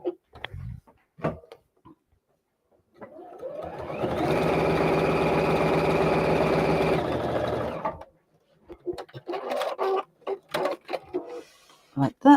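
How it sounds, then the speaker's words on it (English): A sewing machine stitches a foundation-pieced quilt block along a marked line, running in one steady, close, continuous burst of several seconds, with quiet handling noises before it and a voice talking afterward. "So let's flip this over to the other side and sew along that line."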